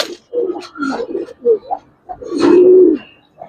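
A Giribaz pigeon cooing close by, several low throaty coos in a broken rhythm ending in one long drawn-out coo, with brief quiet gaps between.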